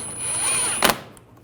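A power drill whirs for under a second as a screw is driven into the side of a 2009-2017 Volkswagen Tiguan front bumper cover, then a short sharp burst as the screw seats, close and loud with no voices.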